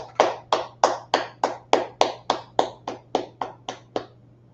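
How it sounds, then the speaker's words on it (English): An audience claps in unison at the start of a law class, about fourteen sharp, evenly spaced claps ringing out in a room over a low steady hum. "Let's clap it up."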